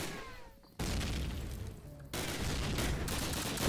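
Call of Duty 4 gunfire rings out in sharp bursts, first a brief shot with whistling debris, then loud sustained volleys after a short quiet gap, ending in a final heavy blast.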